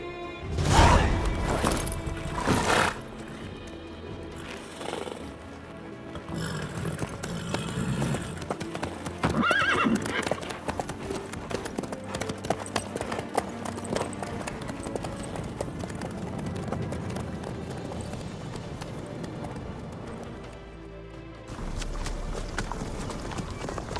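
Horse hooves clip-clop steadily at a trot in The Witcher 3 video game, with an occasional neigh, continuous through the whole stretch under game ambience and characters conversing.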